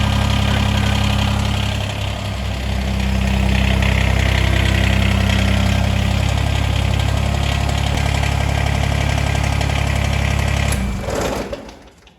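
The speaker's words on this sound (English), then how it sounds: "We can shut the tractor off for now" A Kubota BX2380 compact tractor engine idles with a steady, close, rattling chug, then cuts off abruptly near the end.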